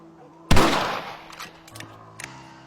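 A single loud rifle shot in Red Dead Redemption, a sharp close crack that decays into a short rumbling tail, followed by a few faint clicks and thuds.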